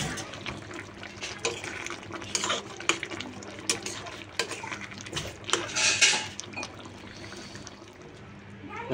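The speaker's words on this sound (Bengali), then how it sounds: "নাড়াচাড়া দিতে হবে।" A spoon stirs a prawn and taro curry in a pan, making repeated scraping and clinking knocks against the metal over a wet, bubbling background, fairly close and irregular in rhythm.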